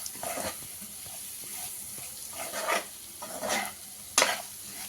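Capsicum fry being stirred in a hot pan: a few scraping strokes come in bursts over a steady, soft sizzle, with no voices.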